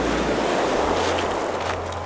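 Surf washing onto a rocky shore, rolling stones along the waterline, heard as a steady broadband wash mixed with low wind rumble, distant and muffled, with no speech.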